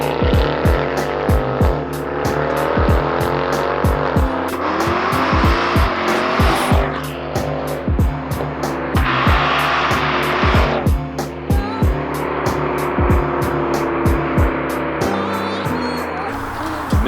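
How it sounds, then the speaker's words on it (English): A 2011 Mercedes C63 AMG drives hard, its engine revving and shifting through gears with tire squeal and skidding, loud and close, with repeated rhythmic thumps running beneath. "This here is a 2011 C63 AMG"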